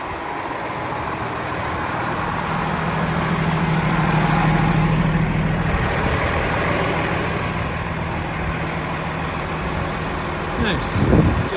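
A heavy truck hauling a trailer idles and rumbles with a deep steady engine drone as it backs up, loud and close throughout, swelling slightly midway, with a brief clatter near the end.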